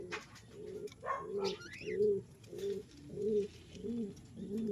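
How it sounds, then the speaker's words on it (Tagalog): Opal-coloured homing racing pigeons coo in a steady, repeating rhythm of soft throaty calls, close by, with a few faint chirps from young birds mixed in and no talking. "So mga kalapatids, yan yung inakay nila."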